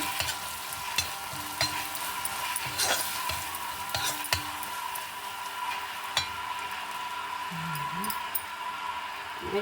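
A spoon stirs vangi bath spice powder, about one and a half spoonfuls, around a frying pan, giving scraping clinks over a steady low sizzle, with no talk.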